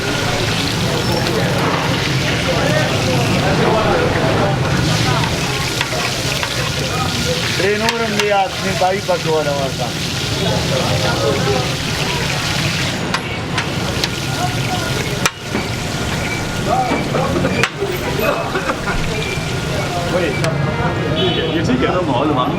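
Food sizzles loudly and steadily on a massive iron griddle pan at a street food stall in Mardan, a continuous dense frying hiss with occasional scrapes and clanks, while people talk over it throughout.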